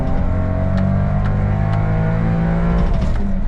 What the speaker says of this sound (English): Let's do a quick acceleration test. This is 3rd gear.